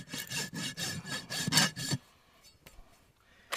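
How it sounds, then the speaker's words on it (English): A farrier works a rasp under the clinched nails of a horse's hoof, trimming away jagged hoof: about two seconds of steady, rhythmic rough strokes, close and fairly loud, then a near-silent stretch with a few faint scrapes. "we're going to rasp underneath the nail to take any jagged hoof away"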